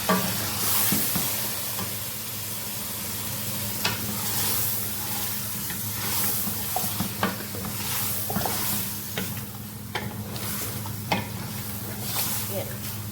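Chicken karahi stirred in a pan over steady sizzling, the spoon scraping and knocking in irregular strokes close by, without any talking.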